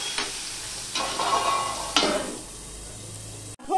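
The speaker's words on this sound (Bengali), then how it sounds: "ওকে আমি ভেজে নেব ঢাকা দিয়ে দিয়ে।" Potatoes sizzle in a pan with turmeric and salt, a continuous crackling fry broken by three distinct scraping stir strokes before a sharp clatter at the end.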